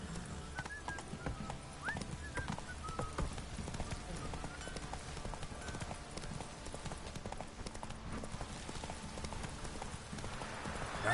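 Hooves of Roach, the horse in The Witcher 3 video game, pound in a steady galloping clip-clop through a field, close and continuous over a busy game soundscape with faint background sounds.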